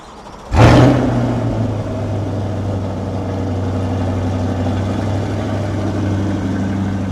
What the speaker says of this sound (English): that's what the C8 eRay sounds like from idle